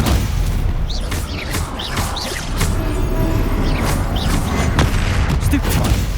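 Spell combat in Hogwarts Legacy with repeated Stupefy casts: dense, continuous battle noise of booming impacts, crashing blasts and whooshing hits over a heavy low rumble, loud and unbroken throughout.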